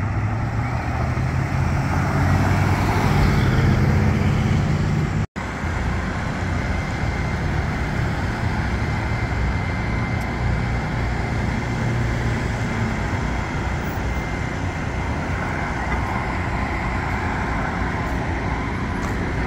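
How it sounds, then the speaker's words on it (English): A continuous loud roar of loud cars on old Route 66, with vehicles rumbling past and a brief dropout early on, no voices. "People are showing off their loud cars."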